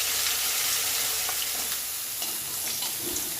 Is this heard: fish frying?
yes